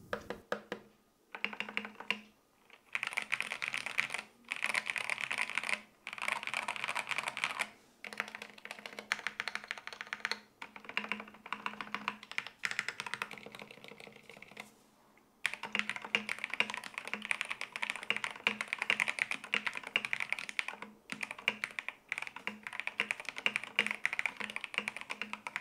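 Rapid, steady clacking of keys on a DrunkDeer A75 mechanical keyboard with factory-lubed switches, continuous bursts of typing broken by short pauses, close and fairly quiet.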